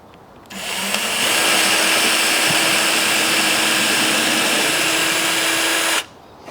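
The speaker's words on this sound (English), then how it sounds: "you do need a larger drill bit than for the nails" A power drill with a large bit whirs steadily into wood for about five seconds while building a nest box for native birds, starting and stopping abruptly, close and loud with no talking.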